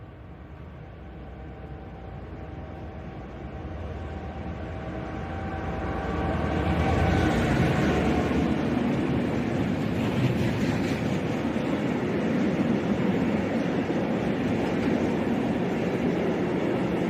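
West Midlands Railway Class 730 electric train arriving at Stechford, a rumbling approach that swells from a distance into a loud, broad roar of wheels and motors as it draws close and passes.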